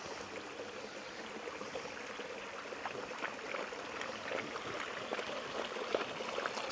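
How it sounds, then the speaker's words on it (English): Creek water flowing steadily at a crossing on a hot bush hike near Maroota, a faint, continuous trickling wash with no voices. "Here we are at the creek crossing."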